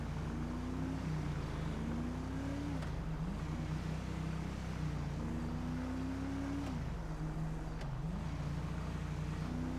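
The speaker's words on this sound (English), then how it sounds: "Oh my god, this car is driving so slow." Steady engine drone of a car driving in the OCRP Life roleplay game, holding a constant low hum with repeated rising pitch sweeps like gear shifts, continuous and fairly close, with no talk over it.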